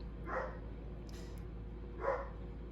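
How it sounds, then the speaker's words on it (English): Indoor dog barking at the mail delivery, two separate muffled barks about two seconds apart, moderately distant over a low steady hum. "here's my dog letting the world know that the mail is here"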